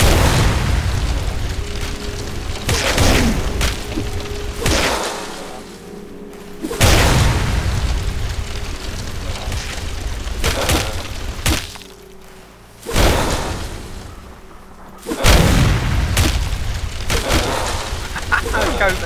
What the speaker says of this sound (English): Start using fire bombs on them, they go out in seconds!